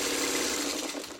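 Sewing machine stitching quilt blocks together for a checkerboard pattern, a fast, continuous mechanical whir with a steady rhythmic chatter throughout, moderately quiet and close.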